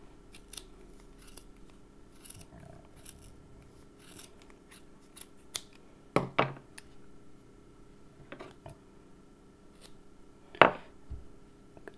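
Scissors snipping through wool wound on a Clover pompom maker: a few sharp, quiet cutting clicks scattered among faint rustling and handling noises, close to the listener, with no voices.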